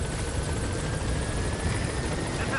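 A helicopter approaching in Metal Gear Solid V: The Phantom Pain, its rotor thrumming steadily and loudly as it nears, with a faint engine whine above the steady chop.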